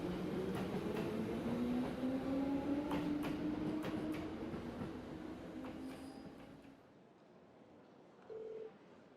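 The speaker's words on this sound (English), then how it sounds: "maybe big red train's coming by?" A train pulls in during the video game Trails of Cold Steel, a loud rumbling rush with rising tonal whine and rail clatter that fades out after about seven seconds, followed by a short electronic beep-like tone near the end.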